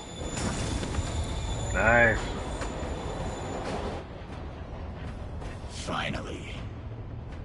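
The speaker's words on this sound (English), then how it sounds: "Train moving." A train rumbles past in Marvel's Spider-Man with a broadband rolling roar and a short squealing tonal burst partway through, joined by game effects, and a voice briefly speaks over it.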